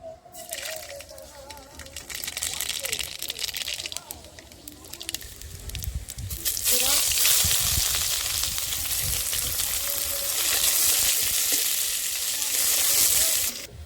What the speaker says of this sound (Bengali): এবার তেল দিয়ে আমি পেঁয়াজ দেব, সর্ষে ফোড়ন দেব ফার্স্টে।